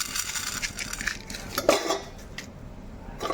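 Coriander seeds tossed into a hot pan of peanuts for a bitter gourd masala curry rattle and scrape against the metal, with a spoon stirring in short bursts of clinking and gritty sizzle, close and without any talking.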